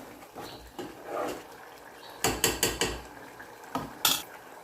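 A spoon clanks and scrapes against a pot while coriander is stirred into bitter gourd curry, several sharp metallic knocks in quick succession, close and fairly loud, with softer scraping between.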